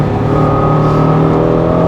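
A Honda NSX engine revs hard at high rpm, a loud, steady droning buzz heard up close with no talking.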